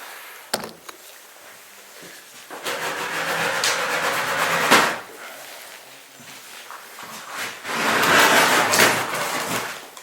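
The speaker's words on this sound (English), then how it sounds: "I'm going to try and shut this door." Inside an old mansion left empty for about 20 years, a heavy door is pushed shut against resistance, with scraping, rubbing and creaking surges and a knock or two, moderately loud and close, with no talking.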